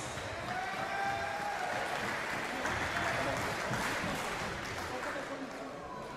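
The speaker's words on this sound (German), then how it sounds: "Das Publikum honoriert das mit Applaus." Fight-night crowd at Rumble Under the Rock applauding after a Kasim Gashi bout, a thick, steady roar of clapping mixed with cheering and voices, loud and sustained.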